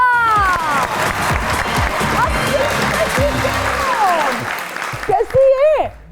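A studio audience on a talk show claps steadily to welcome guests, a dense sustained applause wash with musical tones and a voice rising over it near the end.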